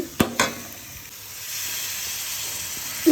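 Coriander powder sizzles and hisses in a hot pan for a prawn and drumstick curry, with a few sharp scraping knocks from stirring near the start and a steady broadband frying hiss throughout, close and alone.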